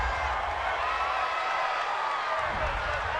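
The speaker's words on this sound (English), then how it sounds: "This home crowd, they're happy with that call." A home stadium crowd roars steadily in a simulated NFL game between the Eagles and 49ers, approving a penalty call; the dense cheering sits close and loud throughout, with faint commentary-like voices under it.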